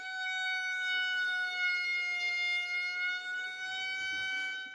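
Violin played as a sick cow effect, a finger resting on the string while the bow is drawn slowly, giving a sustained, wavering, siren-like tone that holds steadily on its own and fairly faint.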